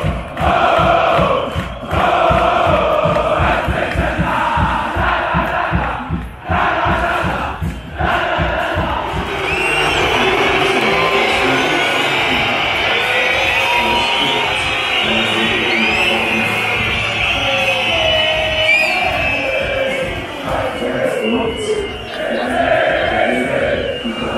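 A stadium crowd at a Zurich football derby between Grasshoppers and FC Zurich roars and chants loudly throughout, a dense sustained wall of voices with rhythmic clapping and cheering swelling in the middle.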